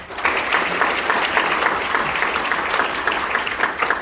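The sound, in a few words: audience applause at union delegates' convention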